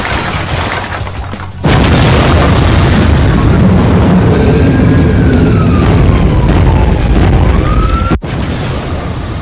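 Loud, continuous rumbling booms and blasts from a city being destroyed, with a rising and falling siren-like whine sweeping through the middle and a brief dropout near the end.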